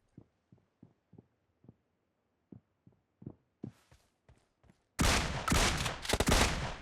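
Shots from a DBS shotgun in PUBG Mobile fire as a string of separate reports, first faint and sparse, then a loud, dense burst of gunfire fills the last couple of seconds.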